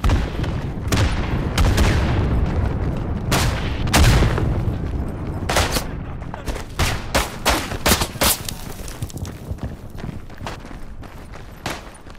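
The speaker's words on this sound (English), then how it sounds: "We gotta destroy this enemy machine gun." Machine gun fire in the World War I shooter Isonzo on an Italian mountain front: loud, sustained gunfire, dense at first, then breaking into separate cracking shots and short bursts.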